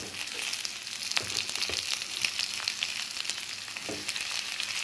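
Chopped onion and curry leaves sautéing in a pan for a river crab roast, a steady dense sizzle with a few scrapes and stirs, close and continuous, no voices.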